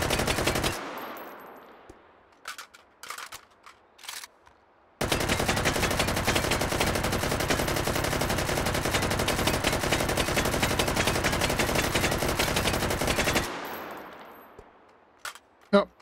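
Automatic gunfire from a drum-magazine machine gun in the Hot Dogs, Horseshoes & Hand Grenades VR game: a few isolated shots, then a loud, unbroken burst of rapid fire lasting about eight seconds before it cuts off and echoes away.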